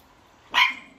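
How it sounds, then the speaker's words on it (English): A dog lets out one sharp, loud bark at close range, short and abrupt, with no voices around it. "No barking."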